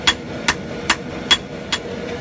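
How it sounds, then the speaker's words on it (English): A hammer forge-welds the eye of a Viking axe on the anvil: five sharp, evenly spaced ringing blows about every half second, close and loud. "second weld on the eye, here we go."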